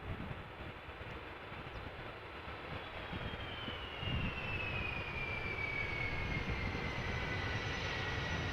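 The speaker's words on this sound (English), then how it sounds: "we are going to see the Play airplane arriving from Reykjavik" Play airliner from Reykjavik arriving at Amsterdam Schiphol Airport, a steady distant jet engine roar with a slowly falling whine as it passes, alone without talk.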